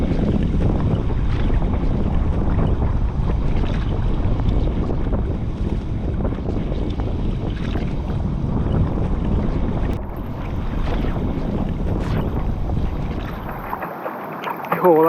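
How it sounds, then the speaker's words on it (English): Strong wind buffets the microphone on a wide river while canoeing near Maidstone, a loud, constant low roar with faint water sounds beneath, briefly dropping away at the end. "The wind's picked up."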